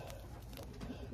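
A pigeon at a loft gives a soft, low coo, faint and somewhat distant against steady background noise.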